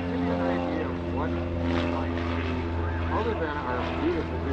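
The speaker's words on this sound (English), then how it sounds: "That's quite an engine on a little airplane like that." Small airplane engine droning steadily during a general aviation parade at EAA AirVenture 2018, a strong harmonic propeller hum that stays loud throughout while people talk over it.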